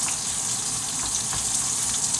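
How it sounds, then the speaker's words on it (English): Onions sizzle in a pan while cooking chorizo pasta, a steady bright frying hiss with faint crackle, close and continuous, no voices. "Might as well add the onions now. Hear that sizzle?"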